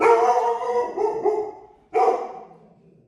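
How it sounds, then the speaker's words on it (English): A pet dog barks in a home setting: a run of loud, close barks over the first two seconds, then after a brief pause a single sharp bark that fades away. "so we have a dog"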